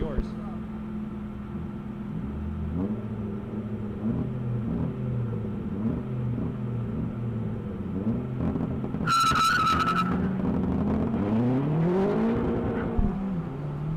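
At an SCCA ProSolo autocross start, a Corvette and a Mazdaspeed Miata idle and rumble at the line, then launch with rising engine revs and a brief tire chirp, heard under announcer talk.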